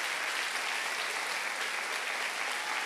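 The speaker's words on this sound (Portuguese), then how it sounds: "Eu queria que você aplaudisse o Senhor Jesus." A church congregation applauds steadily, dense clapping filling the space at an even, sustained level throughout.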